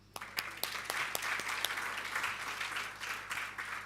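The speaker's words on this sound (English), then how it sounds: "we want to give a big round of applause for the future that you have in front of you" An audience at a government campaign launch for nonprofit organisations bursts into sustained applause for young leaders, dense clapping that rises quickly and carries on steadily through the room.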